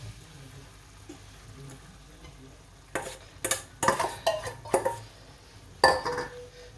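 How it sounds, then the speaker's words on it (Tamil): Ghee-roasted semolina is poured into boiling water in a pot and stirred for kesari: after a quiet simmering lull come several loud, close scraping and clattering strokes of a spoon against the pan. "நெய்யில் வறுத்து வச்சுக்கிற ரவையை கொட்ட போகிறேன்"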